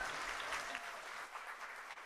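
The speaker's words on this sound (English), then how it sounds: "Let's give one more round of applause for our incredible panel." A conference audience at a women's leadership summit gives a warm, dense round of applause for a panel, steady and sustained, then gradually thinning near the end.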